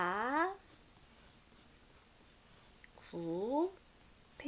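A pen writes Chinese characters by hand with quiet, scratchy strokes, close and soft, between stretches of speech.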